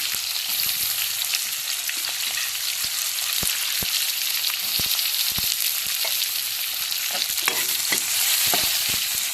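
Onions fry with ginger garlic paste and curry leaves in a pan for aloo sagu, giving a steady close sizzle with scattered pops and stirring scrapes and no talking.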